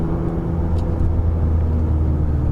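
A BMW E36 M3 engine rumbles steadily in second gear while the car drives through a neighbourhood, a loud low drone that stays close and even throughout.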